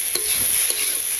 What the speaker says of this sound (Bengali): আলু আর কুচুগুলো ভালো করে একটু ভেজে নিলাম